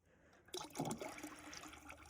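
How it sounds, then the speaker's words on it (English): Acetone pours into diesel in the oil pan of a 1928 Model A Ford, a short close splashing liquid gush that starts abruptly after a quiet moment and keeps trickling, faint overall. "I'll just pour the acetone on top of that and mix it in"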